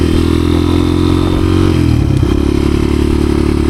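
Loud, close engine of a 1986 Honda XR200R under way, its clutch slipping a little, holds a continuous drone that dips and climbs in pitch as the rider eases off and picks up speed again.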